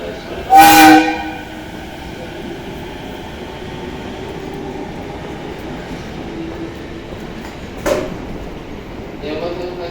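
A JR 211 series train at Tachikawa Station sounds a loud short horn blast, then a second briefer toot, as it slowly departs, with steady station rumble and distant platform announcements.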